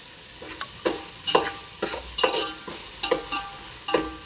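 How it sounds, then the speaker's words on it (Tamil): Mint and coriander leaves sautéing in hot oil for mutton biryani, a close sizzle broken by regular scraping stirs about every half second, with no talking. "இது நல்லா எண்ணெயில் கொஞ்சம் அப்படியே வதங்கட்டும்"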